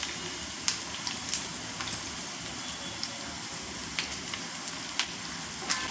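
Tempering spices crackle and splutter in hot oil for a Vinayaka Chavithi prasadam, with a steady low sizzle and scattered sharp pops, nearby and fairly quiet, no voices.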